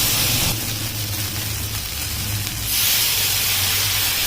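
Poppy seed paste fries with potatoes and onions in a hot pan for aloo posto, giving a steady, close sizzling hiss that swells slightly near the end.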